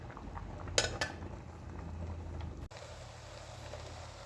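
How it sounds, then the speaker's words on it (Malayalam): Ground coconut paste dropped into a pot of boiled cassava, a couple of brief clinking scrapes near the start followed by a low steady bubbling hiss, ending in a dull knock. "നമുക്ക് അരപ്പങ്ങോട്ട് ചേർത്ത് കൊടുക്കുകയാണ്"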